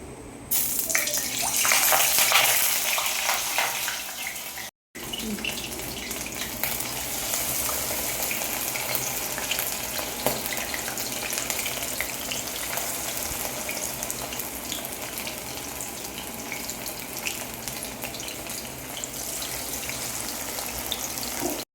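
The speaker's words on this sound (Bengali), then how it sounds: "স্টিকগুলোকে এক এক করে এবার ভাজার জন্য কড়াইয়ে তেল দিয়ে দিচ্ছি।" Arrowroot-coated sticks fry in hot oil in a wok, giving a loud, steady sizzle and crackle that runs almost the whole time, broken only by a brief pause near the start.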